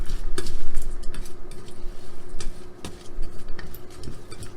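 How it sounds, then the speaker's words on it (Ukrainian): Nuts are stirred into melted sugar in a pan with the stove switched off, giving scraping, ticking spoon strokes and faint crackle at close range, with no talking. "ми вимикаємо плиту і додаємо туди горішки. все перемішуємо."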